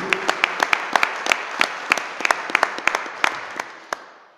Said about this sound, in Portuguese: Você pode dar um aplauso a Ele, em nome de Jesus?